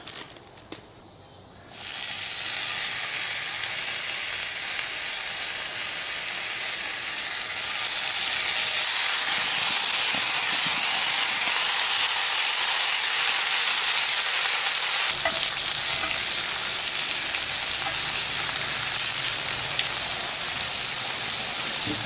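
Bacon sizzling and frying in a pan beside grilled onions at a camp cooking setup, a steady broadband crackle that jumps louder after a quiet start and continues alone without talk.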